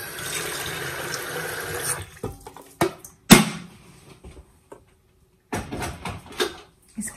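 A kitchen tap runs steadily for about two seconds as water is drawn for heating for coffee, then cuts off. Scattered knocks, clatters and splashes follow, one loud bang in the middle, with quieter gaps between.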